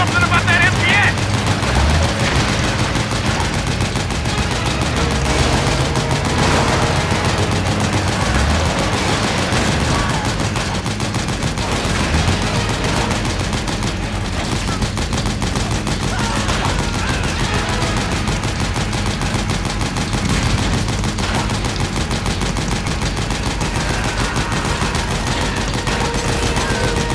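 Sustained automatic gunfire in Metal Gear Solid 4: Guns of the Patriots, aimed at a gate, a dense unbroken stream of shots at steady high loudness with voices mixed into the chaos.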